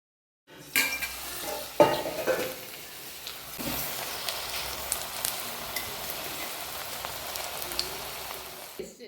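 Chicken pakoda fries in hot oil in a kadai, a dense, steady sizzle that starts abruptly and continues close and loud, with occasional sharper crackles and utensil scrapes.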